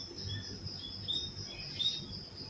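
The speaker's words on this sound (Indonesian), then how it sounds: "Mana suara burung lagi" Birds chirp outdoors around a home terrace before dawn, a steady high twittering with a couple of brighter calls standing out over a soft background hum, moderately distant and with no talking.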